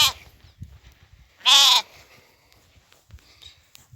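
A lone lamb penned on a farm gives one loud, clear bleat lasting about a third of a second, close by, with quiet rustling and faint background noise before and after.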